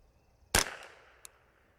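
A single sharp crack from a Ruger 10/22 .22LR rifle, loud and close, with a short ringing decay and a faint tick about half a second later.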